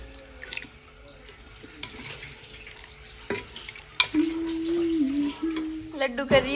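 Water poured into chili masala frying in a home kitchen pan, a steady hiss and sizzle building louder in the second half, with faint clinks and background sounds throughout.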